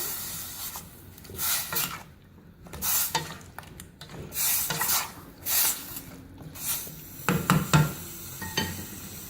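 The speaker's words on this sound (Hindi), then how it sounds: "इसको अच्छी तरह से मिक्स करेंगे।" Mutton being stirred with turmeric powder, salt and masala in a pot, heard as repeated scraping and rubbing strokes with a faint sizzle, close and moderately loud, with no talking.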